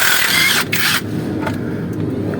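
A flood-damaged car engine is cranked over, a steady mechanical churning that runs loud and continuous for a couple of seconds with no voices.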